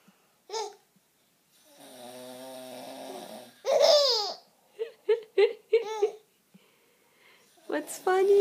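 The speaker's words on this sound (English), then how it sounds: "Daddy snoring?" A man snores in a long, buzzing rasp while a baby around him babbles, squeals and giggles in short bursts, with quiet pauses in between.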